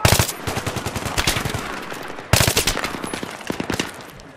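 Rapid automatic gunfire in Battlefield 3, with two dense bursts of sharp repeated shots separated by a brief gap, loud and close.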